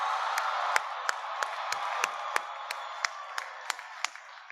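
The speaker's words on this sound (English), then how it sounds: "please stand and give your families a rousing round of" Applause and cheering from a crowd of graduating candidates at a Prairie View A&M University spring commencement, honoring their families; steady clapping fills the hall with scattered sharp whoops and claps standing out, fading slightly toward the end.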